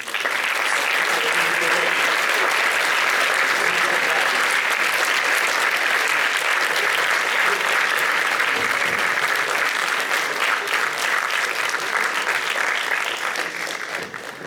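A festival cinema audience gives sustained, loud applause for a film team after a screening Q&A, a thick continuous wash of many clapping hands that holds steady for the whole stretch and tapers slightly at the end.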